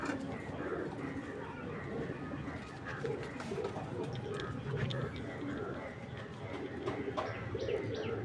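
A locally bought grizzle pigeon cooing in repeated low, throaty phrases, nearby and fairly quiet, with occasional chirps from other birds around it.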